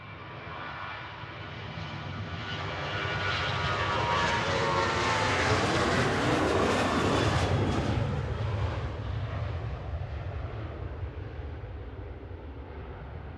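A Ryanair airliner bound for Barcelona passes at Manchester Airport, its engine roar swelling steadily to a loud peak near the middle and then easing off while staying strong, with no voices over it.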